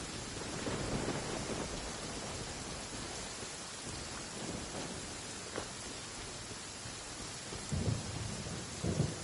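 A thunderstorm in Genshin Impact: steady rain hisses throughout while low rumbles of thunder roll in at intervals, with no voices.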